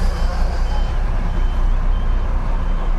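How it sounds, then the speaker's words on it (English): A hop-on hop-off tour bus in Athens gives a loud, steady engine drone and road rumble with faint higher tones on top, heard from on board without talking. "we are on the hop on, hop off bus"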